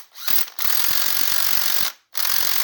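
An old Snap-on NiCad cordless ratchet whirs in close, loud bursts: a short spin, a brief pause, a long run of over a second, then another burst, with gear clatter and no talking.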